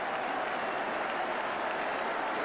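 Continuous applause fills Highbury stadium, thousands of hands clapping in a thick, even wash from a football crowd, steady and unbroken with no talk.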